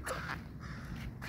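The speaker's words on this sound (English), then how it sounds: "Right there's an annoying bird." A crow cawing outdoors, two or three short, harsh calls at moderate distance over steady background rumble.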